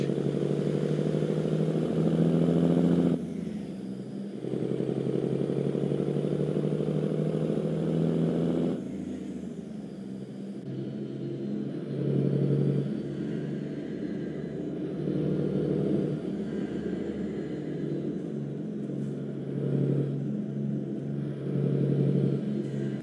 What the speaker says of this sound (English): pulling a load this big, you know it. Feels light with this 800 horsepower engine